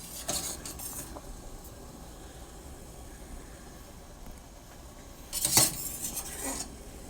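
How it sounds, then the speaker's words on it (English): A slotted spoon lifts cooked gnocchi out of a pot, making soft clinks and scrapes against the metal in two brief bursts, one at the start and a louder one near the end, with quiet room tone between. "So you take your slotted spoon and you just get them out."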